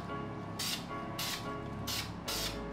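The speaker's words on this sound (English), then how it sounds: "now we can get to spraying with this bad boy" Spray paint can coating a dirt bike exhaust at home, four short hissing bursts of about half a second each, close and quiet over a faint steady background hum.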